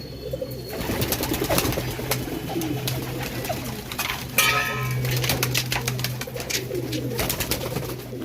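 At a pigeon farm in Nabadwip, Giribaz and red-streaked pigeons coo steadily up close, with scattered sharp clicks and a brief flutter of wings partway through.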